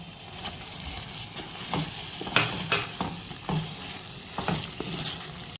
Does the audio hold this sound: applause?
no